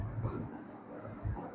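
Chalk or marker scratches across a board in short, rhythmic strokes during a Class 12 chemistry lecture on chemical kinetics, close and fairly clear, with faint breathy voice underneath.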